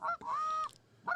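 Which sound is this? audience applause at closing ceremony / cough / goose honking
goose honking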